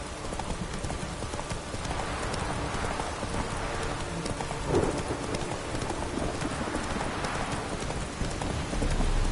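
A horse gallops through rain in The Witcher 3, its hooves clip-clopping in a steady rhythm over continuous rainfall with faint rumbles, a brief voice urging it on.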